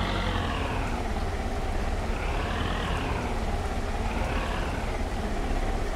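A tractor engine in a farming video game on PS5 drones steadily, its pitch rising and falling in slow waves as the machine maneuvers, loud and continuous with no voices over it.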